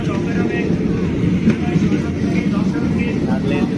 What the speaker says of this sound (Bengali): ট্রেনের স্পিড বাড়িয়ে দিয়েছে।